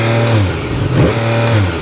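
A Yamaha MT-09 motorcycle's 900 cc three-cylinder engine revs sharply twice in neutral in quick succession, rising and falling each time, loud and close, with no voices.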